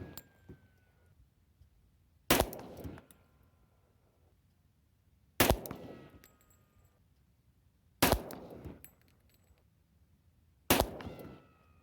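Glock 35 pistol firing .40 caliber rounds, four sharp, loud shots spaced a few seconds apart, each with a short echoing decay into a quiet outdoor background.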